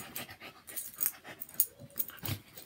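A dog panting in quick, breathy bursts close by, a rough steady rhythm of huffs with no talking.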